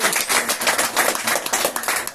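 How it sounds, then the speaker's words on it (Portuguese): A church congregation applauding during an evening worship service, a dense, continuous patter of many hands clapping together at steady loudness throughout, with no voices standing out. "Vamos dar uma salva de palmas para o nosso Senhor Jesus Cristo."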